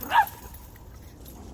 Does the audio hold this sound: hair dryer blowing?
no